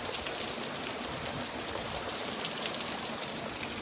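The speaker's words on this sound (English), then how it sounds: "guys, it's raining and it's raining so hard." Heavy rain pours down steadily in Canada in August, a dense, constant hiss of drops hitting surfaces with no break and no voices.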